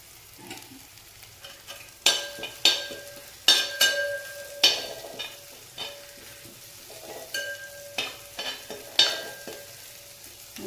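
Curry leaves and onion fry in a pan while a spoon stirs and scrapes against the metal, producing repeated sharp clinks over a soft, steady sizzle, with no talking.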